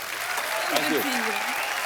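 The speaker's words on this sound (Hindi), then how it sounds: "जोरदार तालियां" A television comedy show's studio audience breaks into loud, continuous applause, a steady roar of clapping with a person's voice briefly rising over it midway.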